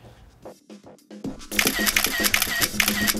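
A camera shutter clicks as a selfie is taken, a brief mechanical snap standing out after quiet moments, followed by loud, bright upbeat music or busy activity filling the rest.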